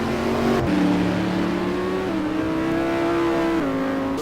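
A race car engine at Donington revs hard and steady as driver Sebastian Hauer, out of shape on a hot qualifying lap, heads toward Goddard, with shifting pitch, a brief gear change near the start and no talk.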